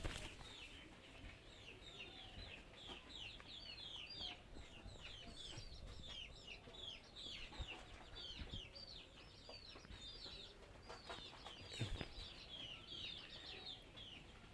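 A dense chorus of chicks at a poultry seller's stall, with many rapid high chirps and peeps overlapping steadily throughout, set against a faint background hum and occasional light bumps.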